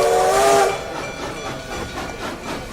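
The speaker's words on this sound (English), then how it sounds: "The train pulls away from the station. Can you hear it? The engine chugs. The whistle sounds." Steam locomotive whistle blowing as a train pulls away from a station, a loud sustained tonal blast under a second long, then fading into steady hissing steam and rumble.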